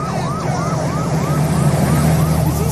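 An ambulance siren wails in repeated rising-and-falling sweeps from a horror film, loud and steady over a low engine-like rumble, with no talk.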